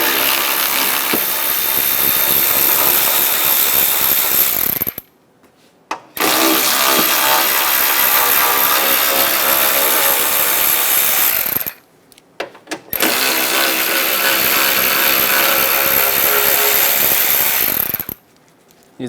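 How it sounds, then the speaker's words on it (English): A power tool fitted with a 10mm socket removes fan shroud screws on a 1988–1999 GMC K1500 pickup, giving three loud sustained whirring bursts of about five seconds each, separated by short silent pauses. "Using a 10mm socket, we're going to remove the top 3 screws."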